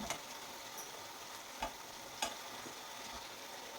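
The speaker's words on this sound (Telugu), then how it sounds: "ఈ వడలన్నీ వేసి ఒకసారి కలిపి పెట్టుకుంటున్నాను" Masala vadas stirred into a tomato and tamarind curry in a pan, a soft steady simmering hiss with a few faint spoon taps, quiet and close, no talking.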